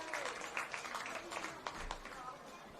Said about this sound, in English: Stadium's clapping him off there.